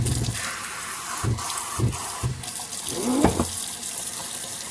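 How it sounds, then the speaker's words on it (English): Tap water runs over soursop leaves being rinsed for a natural cough and cold tea, a steady close splashing flow broken by short bursts as the leaves are moved under the stream, with a brief spoken remark. "we're going to go ahead and rinse these off"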